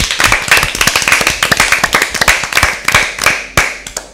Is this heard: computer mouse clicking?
no